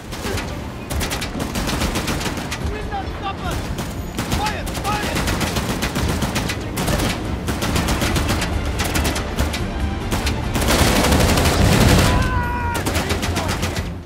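Dense, continuous gunfire from a combat sequence in the action game Uncharted: The Lost Legacy, with rapid overlapping bursts and loud sharp shots over a constant roar of vehicle engine and action noise, plus occasional brief character voices.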